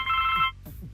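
An old telephone rings in the video game Blackwell Legacy, a single loud electronic bell burst lasting about half a second, followed by quieter in-game sounds.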